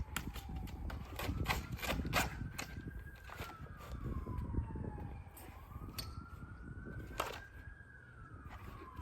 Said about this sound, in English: Or either the sirens are freaking her out.